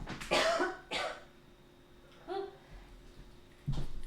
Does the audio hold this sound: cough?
yes